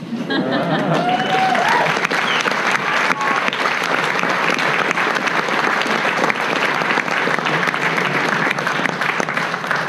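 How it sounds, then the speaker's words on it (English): A large audience at a medical residency graduation claps loudly and continuously, a dense, sustained wave of applause with a few cheers mixed in. "another round of applause for our graduates"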